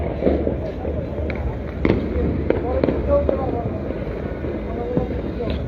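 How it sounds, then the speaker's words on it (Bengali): Fireworks burst across Dhaka on New Year's Eve as sky lanterns are released, a scattering of distant pops and crackles over a steady wind-blown rooftop hum. "ফানুস উড়ানো হচ্ছে এবং আতসবাজি ফোটানো হচ্ছে"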